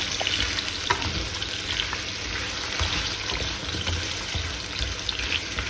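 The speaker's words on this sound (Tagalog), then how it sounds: "Iprito ko, guys, yung patatas." Potatoes frying in a pan on an induction cooker, a steady, loud, close sizzle that runs unbroken throughout with no talk.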